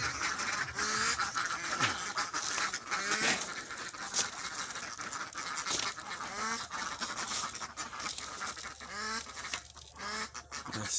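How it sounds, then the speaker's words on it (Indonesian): Ducks quack repeatedly over a dense, noisy outdoor background, with several overlapping calls spread throughout. "Bebek."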